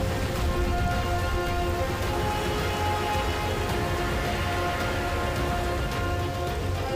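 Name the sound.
heavy monsoon rain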